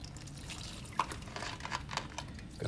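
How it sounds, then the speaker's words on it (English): Water from a tap splashes and trickles into a sink, with irregular drips and splatters at moderate volume and no talking. "So we turn on the water."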